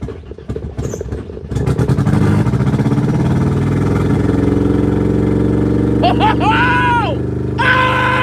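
BMW E36 with an M42 four-cylinder engine on a Microsquirt standalone ECU fires up for the first time, cranking then catching into a loud steady idle, with excited voices over the engine.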